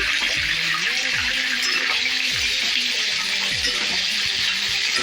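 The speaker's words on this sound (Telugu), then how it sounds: "ఆయిల్ బాగా కాగింది కదా ఇప్పుడు ముందుగా కట్ చేసి పెట్టుకున్న వంకాయలు వేసుకుందాము" Cut brinjal (eggplant) pieces for a stuffed brinjal curry frying in hot oil with onions, giving a loud, constant close sizzle and crackle throughout, with faint scraping or stirring underneath.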